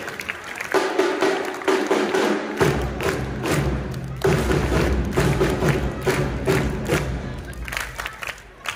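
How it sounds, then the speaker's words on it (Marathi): Audience applause at a school felicitation ceremony for scholarship students at a high school, a dense crowd clatter of clapping with a thumping low rumble, sustained for several seconds and gradually easing toward the end. "जोरदार टाळ्या वाजवायचे।"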